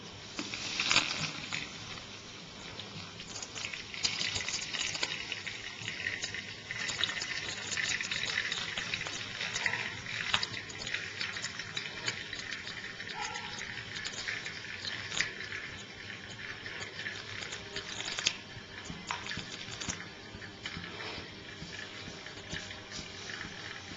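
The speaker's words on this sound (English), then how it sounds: "transfer it over to the cloth and pour it on the cloth slowly" South Indian coffee decoction is poured slowly onto a cloth filter, giving a continuous soft liquid trickle and splash that runs steadily for the whole stretch over a faint background hiss.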